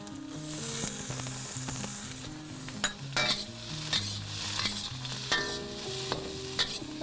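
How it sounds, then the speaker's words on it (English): Diced red and green peppers and red chilies stir-fry in a hot pan with a loud, constant sizzle, while a utensil scrapes and clinks against the pan in quick, repeated strokes. "Fry that up really quickly."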